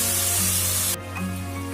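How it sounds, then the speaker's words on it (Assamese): A spice paste with tomato, turmeric and salt for mutton curry sizzles steadily in a hot pan, a loud close hiss that softens slightly partway through. "এই পেষ্টখিনি ভালকৈ ভাজ খাই গৈছে।"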